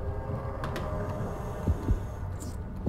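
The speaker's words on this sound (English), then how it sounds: "Oh, I can hear the heartbeat." A low, muffled heartbeat thumps slowly in the dark underwater game Depth, faint throbbing pulses beneath a humming ambient drone, with a couple of stronger beats standing out.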